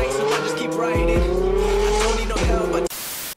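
A Ferrari engine roars loud and close as the car drives hard, tires squealing, with sharp gear-change dips in the engine note before the sound cuts off abruptly.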